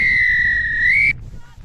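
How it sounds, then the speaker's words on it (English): A referee's long final whistle at a women's Division 2 rugby match, one sustained steady blast lasting about a second, loud and close over crowd murmur, then cutting off to quieter background noise. "And there's the final whistle from Sybil Levine"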